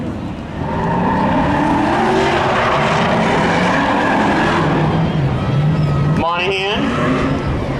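Drag race cars at Seekonk Speedway spectator drags, including a red 1989 Chevy Camaro, roar loudly and continuously close by, with a rising engine pitch near the end while an announcer talks over them.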